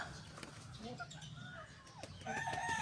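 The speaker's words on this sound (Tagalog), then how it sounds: "Ito ay isang Panagador chicken. Originate naman to galing sa Japan." Panagador chicken, a breed originating from Japan, clucking and calling among other fowl, with overlapping bird sounds and background noise throughout, growing busier and louder toward the end.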